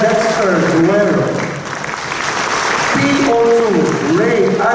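Audience clapping for fallen soldiers during a provincial address in Bohol, a broad, sustained round of applause with a voice and a sustained musical tone running over it throughout.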